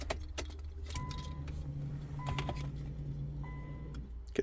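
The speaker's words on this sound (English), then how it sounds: "Now we'll go ahead, turn on the key" An ignition key turns in a Nissan Sentra B15 Spec V, bringing a few metallic key jangles, clicks and chimes over a low steady hum inside the car, ending with a sharp click.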